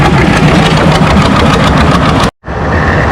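A big John Deere pulling tractor idles loud and close at a tractor pull, its engine rumbling with a rough, steady chug before cutting out briefly and resuming. Nobody talks.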